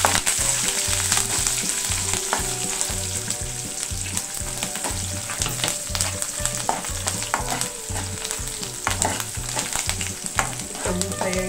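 Chopped green chillies and curry leaves frying in hot oil in a pan for wheat rava upma, a loud, steady close sizzle with a repeated rhythmic scraping of stirring running through the whole stretch.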